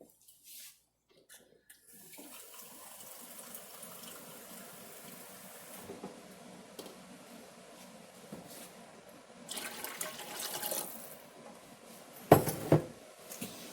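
Warm water poured into a bowl of bread dough mixture for cheese breadsticks, a steady soft splashing stream that runs for several seconds and ends with a few louder sloshes.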